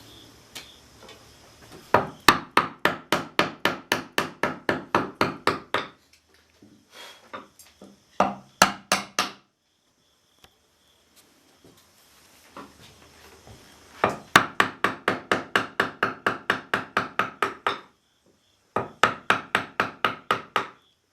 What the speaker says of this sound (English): just turn your mallet like that and lay the chisel down and you can get there